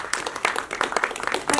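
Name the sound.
audience clapping for the director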